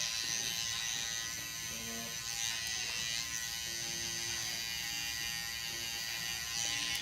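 An electric hair trimmer lines up a customer's neckline during a Eurohawk haircut, a continuous close, high buzzing drone that holds steady for several seconds with no talking.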